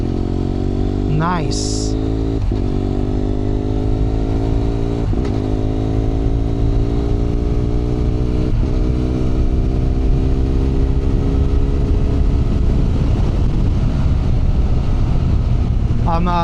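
A BMW F800R motorcycle with a HealTech quickshifter accelerates, its engine note climbing, then dropping sharply at each of several clutchless upshifts, loud and close, while the rider talks over it.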